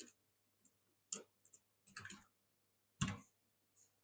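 A MySQL query is typed on a computer keyboard, making quiet, sparse clicks in short bursts with pauses between keystroke clusters in an otherwise silent room.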